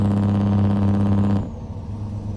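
A Kenworth truck in American Truck Simulator, fitted with a rattly aftermarket exhaust, gives a loud, heavy engine drone that cuts off abruptly partway through and drops to a lower, rougher rumble.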